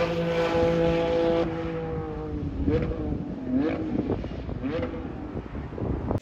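A Porsche GT4 RS engine and exhaust rev up and fall back in a few throaty swells, heard close and fairly loud over steady wind noise before the sound cuts off abruptly.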